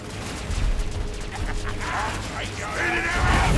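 Gunfire and combat clatter in the video game Warhammer 40,000: Dawn of War III, a dense, loud stretch of shots, impacts and mechanical noise throughout, mixed with game voices.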